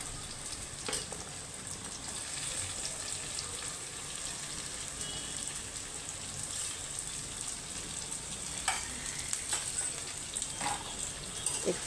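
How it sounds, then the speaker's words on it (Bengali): Chopped cauliflower sizzles steadily in a hot pan while frying for pav bhaji, a soft, even crackle with occasional sharper pops and utensil taps, moderately close and quiet, with no talk. "এখন আমি টুকরো করে রাখা ফুলকপিগুলো দেব"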